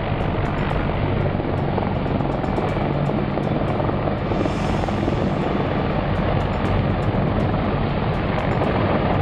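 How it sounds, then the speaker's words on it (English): A CH-53 helicopter roars loud and steady over dusty ground in Iraq, its dense rotor and engine noise filling the scene with a brief swell partway through. "a CH-53 helicopter crashed in Iraq"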